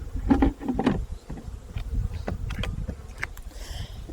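Honey bees buzz around a beehive during winter beekeeping work, with several close, droning buzzes passing by in irregular bursts over a low background rumble.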